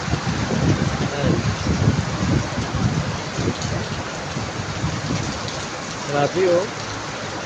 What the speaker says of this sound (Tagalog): Yan, lakas ng ulan.